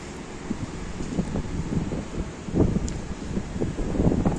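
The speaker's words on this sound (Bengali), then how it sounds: "বাতাস, প্রচুর বাতাস, আমার ক্যামেরা পুরো ভিজে যাচ্ছে পানি পড়ে।" Strong gusty wind with rain in Qatar, roaring and buffeting the microphone in uneven close surges that swell louder toward the end, with no voices.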